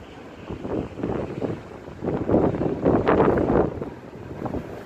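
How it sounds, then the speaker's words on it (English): Wind gusts buffet the microphone during a lightning storm, swelling and roaring in uneven surges for several seconds, with a louder rush near the middle. "Gust of wind."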